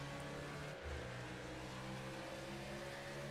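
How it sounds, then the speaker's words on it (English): Race car at North Wilkesboro Speedway shifting gears, a steady droning engine note with a brief dip in pitch near the start as revs drop, heard continuously and fairly faint with no talk. "I think I'm hearing them changing gears."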